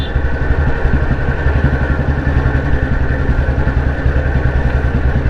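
A 2009 Royal Enfield Bullet 350 with a tight, low-mileage engine slowing down, its deep thumping exhaust beat steady and loud up close, with a mechanical clatter over a continuous rumble.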